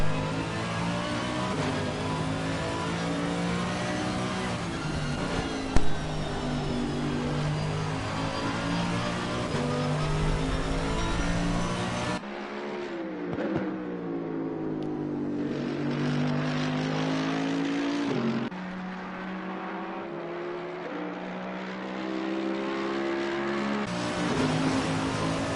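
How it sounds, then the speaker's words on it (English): A Mercedes-AMG GT3 race car, number 909, runs at Monza, its engine a loud sustained drone that rises and falls through gear changes, then drops to a thinner, more distant tone before building again. "the number 909 Mercedes AMG GT3, a very capable GT3 car"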